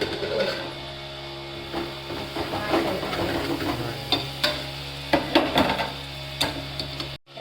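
Potatoes frying in a pan for a potato fry curry, crackling and sizzling throughout with repeated clinking stirs and scrapes of a spatula, close and moderately loud.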